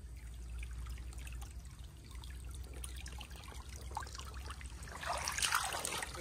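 A small rocky river with large boulders runs through an oil palm plantation, a faint, steady trickle and gurgle of water with a brief burst of splashing near the end.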